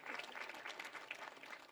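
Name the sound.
audience applause for the minister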